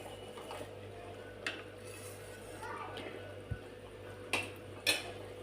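Spices such as cumin and coriander powder stirred into a pot of village-style taro curry: faint, sparse scrapes and light clinks of a spoon against the pot over a low steady hum.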